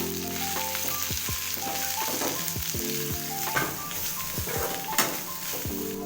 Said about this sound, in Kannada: ಇದನ್ನು ಕೂಡ ಒಗ್ಗರಣೆಗೆ ಹಾಕೊಂಡು ಚೆನ್ನಾಗಿ ಫ್ರೈ ಮಾಡ್ಕೊಳ್ಳೋಣ